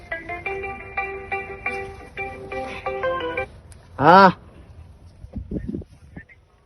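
A phone rings with a repeating electronic melodic tone for about three and a half seconds, followed by a brief loud burst and then fading voices, all heard at moderate volume.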